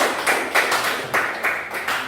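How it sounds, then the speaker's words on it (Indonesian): A classroom of students gives a short round of applause for a group that has just finished presenting, with scattered clapping rising and falling in several bursts and no voices on top. "Berikan aplaus bagi kelompok 3."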